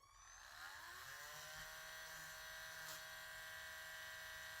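A rotary tool fitted with a burr bit grinds an action figure part: a high motor whine spins up at first, then holds steady and close, with small shifts in pitch as the bit bites into the plastic.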